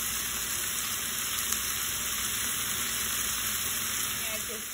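Vegetables and zucchini fry in a pan with a constant, even sizzle and hiss, plus a faint scrape of stirring partway through.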